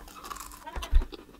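Biting into a deep-fried Twix chocolate bar, with a crisp crunch followed by chewing close to the microphone, heard alone.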